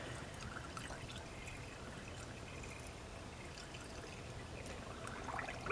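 Plain water poured steadily into the cooling system of a 1985 Chevy Cavalier, a faint continuous trickle and splash with no talk, swelling slightly near the end.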